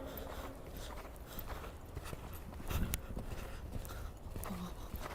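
A horse's hooves clip-clop steadily during a riding lesson with a German rein, a regular rhythmic beat under constant arena background noise.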